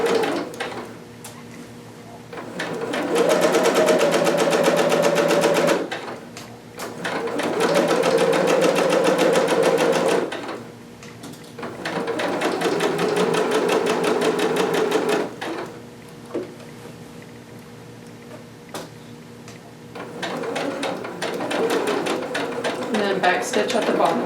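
A sewing machine stitches two garment pieces together along side seams at a 5/8 seam allowance, running in four long loud bursts separated by short pauses, with someone talking quietly between runs.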